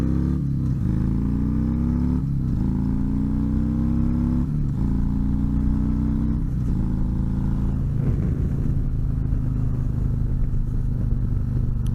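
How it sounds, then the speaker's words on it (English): A car passing by outdoors near an intersection, a loud steady engine drone with broad rumble that swells and shifts pitch as it goes past, no talking over it. "let's wait for this car to go by"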